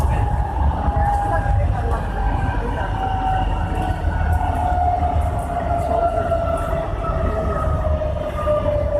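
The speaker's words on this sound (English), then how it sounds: "This is a Brisbane City and Ipswich train, running express from Milton to Darra, stopping only at Indooroopilly." Brisbane City and Ipswich express train running from Milton to Darra, heard as a loud, steady rolling rumble with a sustained tonal whine drifting slightly downward throughout.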